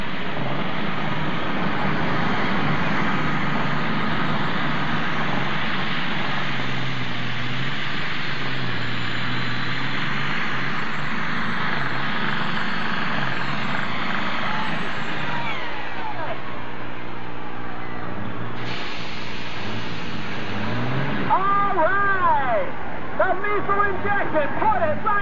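The Lethal Injection pulling tractor, driven by Denny Hayford at a National Tractor Pulling Association event, roars down the track with a loud sustained engine that shifts pitch as it pulls, while an announcer talks over it.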